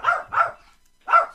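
A dog barks three times, loud and close: two quick barks in a row, a short pause, then a single final bark, with no other sound around them.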